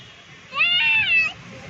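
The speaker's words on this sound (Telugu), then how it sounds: "క్యాట్ నీకు హాయ్ చెప్తుంది హ్యాపీ." A single cat meows close by, one clear drawn-out call with a rising then falling pitch over faint background noise.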